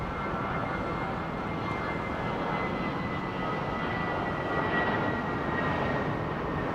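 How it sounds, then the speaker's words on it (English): Thai Airways Airbus A330 jet at London Heathrow, a steady broadband roar of engine noise with a faint tonal whine, holding at an even, fairly distant level throughout. "great to see Thai 330 at Heathrow"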